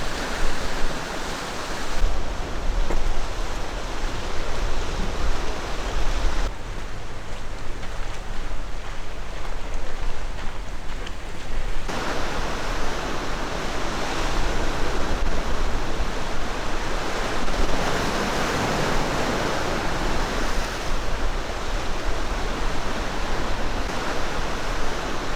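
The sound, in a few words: sea waves breaking on large coastal rocks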